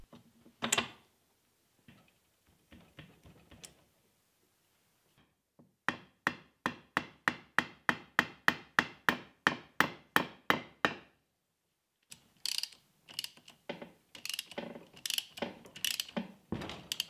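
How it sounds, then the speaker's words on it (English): Metal gearbox parts being fitted as an intermediate shaft and gears go back into a combined gearbox and transfer case: a quick, regular run of sharp ratcheting clicks and taps, close and crisp, with scattered knocks and clunks before and after. "Now that the gearbox and transfer case have become one, I reinstall the intermediate shaft finally."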